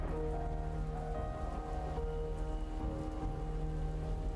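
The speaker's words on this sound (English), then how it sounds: "no matter how much a car costs, the sound of raindrops on the roof always sounds the same." In the video game One Eleven, raindrops patter on a car roof in a dense, constant drumming, heard close and steady with a low hum beneath.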